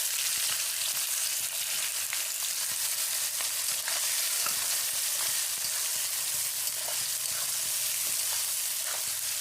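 Sliced onion fries in oil with two bay leaves and three cardamom pods for chicken kosha, an unbroken soft sizzle with faint scattered ticks of stirring, close and steady throughout.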